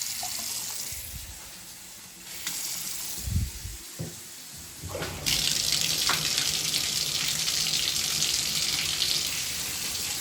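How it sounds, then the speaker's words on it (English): Steady rush of hot water running from a tap, loud and continuous, with a few clunks and a surge partway through as the flow strengthens. "Let this hot water run long enough until you can put your hand under it comfortably."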